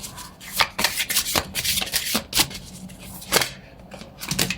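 Oracle cards are shuffled by hand in a quick run of crisp riffling and slapping bursts, close and clear, with short pauses between handfuls.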